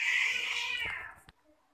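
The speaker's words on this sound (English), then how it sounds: "My cat is actually fighting my neighbor's cat." A loud, drawn-out cat yowl that slides downward and fades, ending with a sharp brief thump, sounding like an agitated cat caterwauling nearby while fighting another cat, with rain outside.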